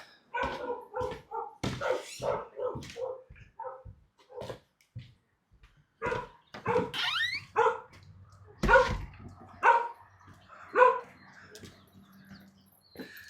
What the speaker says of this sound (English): What are you guys barking at?